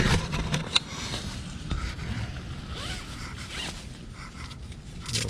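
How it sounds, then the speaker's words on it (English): Zippers on an Outdoor Research Alpine Ascent Shell Bivy are worked close up, with repeated raspy zipping strokes, fabric rustle and a sharp snap or click near the start. "And right here you got 3 zippers."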